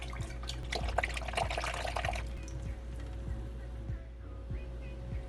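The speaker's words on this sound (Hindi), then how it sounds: "चीनी डालेंगे, लेमन जूस डालेंगे, मिक्स करेंगे।" Sugar and lemon juice being stirred together for a sikanjabeen drink, with liquid sloshing, pouring and dripping sounds that are busiest early on, then quieter clinks and splashes; no voices are heard.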